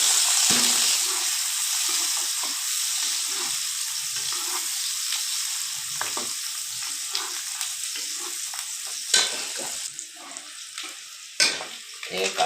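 An egg frying in a pan for eggplant bharta gives a steady, close sizzle throughout, with occasional stirring scrapes and clinks toward the end.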